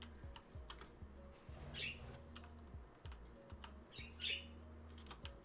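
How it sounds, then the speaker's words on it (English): Birds squawk in the Satisfactory video game, two short bright calls standing out over a quiet bed of keyboard typing, clicks and low hum. "Birds are freaking me out"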